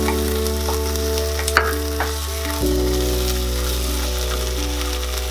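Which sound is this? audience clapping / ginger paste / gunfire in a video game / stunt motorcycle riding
ginger paste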